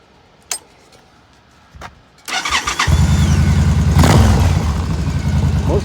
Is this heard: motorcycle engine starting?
yes